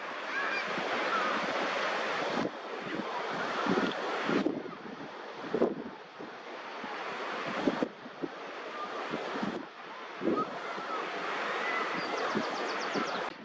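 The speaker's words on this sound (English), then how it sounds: "it's a little bit windy because I'm on the cliff edge here." Wind buffets the microphone on a coastal cliff edge above a beach, a steady rushing roar with gusty surges and brief drops, close and fairly loud throughout with no talking.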